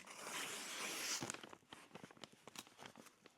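Foil-faced wall insulation being sliced back open in a garage under construction: a sustained rasping, crinkling tear for about a second, followed by scattered close scrapes, rustles and soft handling clicks.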